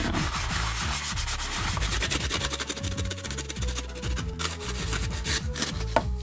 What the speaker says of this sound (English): just to roughen up the surface a bit, get rid of that coating on the surface